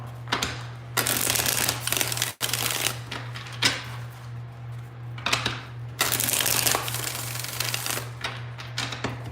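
A deck of tarot cards shuffled by hand in an echoey room, giving repeated close riffling bursts with brief pauses and one sharp tap, over a constant low hum.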